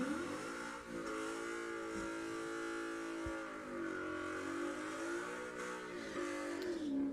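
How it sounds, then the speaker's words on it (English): A 2018 Ford Mustang launches off the line at a drag strip, its engine revving hard and climbing in pitch with a sustained, loud roar that rises and dips as it pulls away, with no talk. "Timothy in the 2018 Mustang hooks up pretty good off the line in that left lane."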